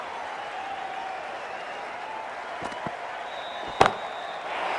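A bat strikes a cricket ball for a six in the Cricket 24 video game, England versus West Indies at Sophia Gardens, Cardiff: one sharp crack stands out over a steady, loud stadium crowd, with a smaller knock just before.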